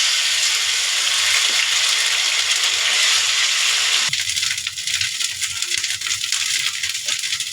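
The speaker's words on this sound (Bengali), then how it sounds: "এখন আমি তেলের ভিতর দিয়ে দেবো।" Paste of ground green chili, garlic, ginger and onion hitting hot oil, a loud continuous frying hiss that drops to a steadier, softer sizzle with crackles partway through; no talking.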